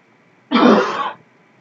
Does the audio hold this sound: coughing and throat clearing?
yes